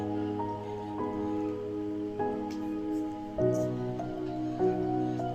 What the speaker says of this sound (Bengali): একটু হালকা করে নেড়ে দিচ্ছি।